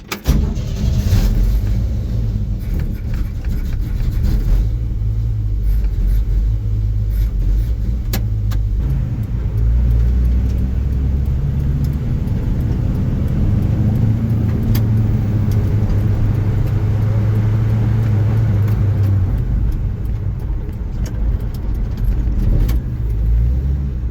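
A 1965 Chevy C10 truck with a freshly tuned carburetor driving along, its engine droning steadily and loudly from inside the cab for the whole stretch.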